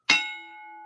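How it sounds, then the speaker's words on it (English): A single bell strike rings out loud and clear, then its tones hang on and sustain steadily without fading much, with no voices alongside. "The bell's still going."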